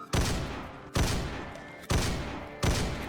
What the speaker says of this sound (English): I was free to unleash my ammo at this point.